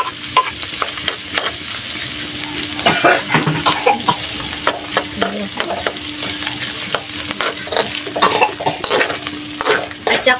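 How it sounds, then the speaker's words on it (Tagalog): Onion sautés in cooking oil for ginisang upo with ground meat, a continuous hiss of frying under frequent scraping and tapping of a spatula against the pan, close and lively throughout. "Kami sa mantika natin ito. At saka yung sibuyas. Lagay na po."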